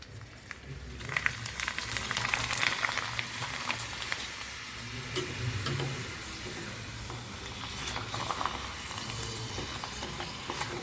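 Rice papads fry in hot oil in a small kadhai, giving a steady, dense sizzle close by. Faint clinks and stirring sounds rise above it now and then, and no one speaks.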